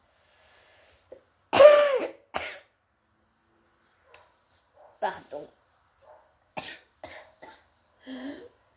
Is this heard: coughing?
yes